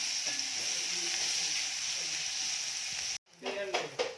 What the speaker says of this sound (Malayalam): നമുക്ക് നന്നായിട്ടൊന്ന് വഴറ്റിയെടുക്കാം.